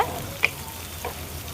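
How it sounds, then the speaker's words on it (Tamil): Oil sizzles softly and steadily in a pan of tomato masala, with a single sharp clink near the start and a faint stir later. "இந்த தக்காளி பழத்தை நல்லா கொதிக்க வைங்க"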